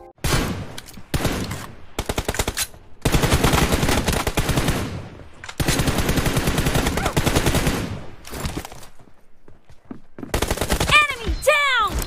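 Close-range gunfire in BGMI from a player shooting while crouching and standing, with loud rapid automatic bursts separated by short silences and a few ricochet-like whines near the end.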